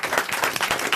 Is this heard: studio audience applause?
yes